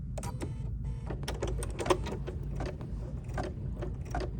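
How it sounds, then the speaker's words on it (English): An embroidery machine stitches blue fabric onto a project with rapid, clattering needle strokes over a low mechanical hum, close and continuous with no talking. "And now I'm going to place my blue fabric and stitch."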